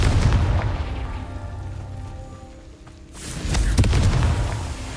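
A Confringo spell blast explodes in a video game: a heavy booming burst at the start fades into a ringing decay, then a second loud explosive rumble hits about three seconds in.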